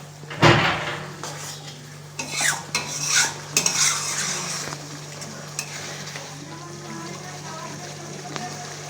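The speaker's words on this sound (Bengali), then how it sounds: "এটাকে আমি প্রায় পাঁচ মিনিটের মতো জাস্ট কষিয়ে নেব যতক্ষণ না জলটা শুকিয়ে মশলার থেকে তেলটা ছেড়ে দিচ্ছে" Spice paste being stirred and sautéed in a pan for Chitol fish curry, with scraping utensil strokes against the metal over a soft continuous sizzle, close by, with a person speaking over it.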